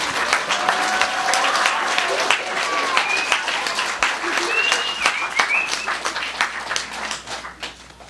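Audience clapping at a public library program, a dense, steady round of applause lasting about eight seconds before tapering off, with voices audible over the clapping.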